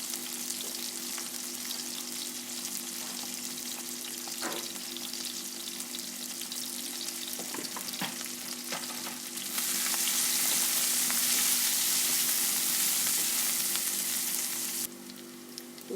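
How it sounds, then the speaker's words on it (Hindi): Onions fry lightly in a pan for a potato and carrot curry, a continuous close sizzle over a faint steady hum, growing louder and brighter partway through before easing back, with no talking. "प्याज हमने थोड़ा सा लाइटली ब्राउन कर लिया"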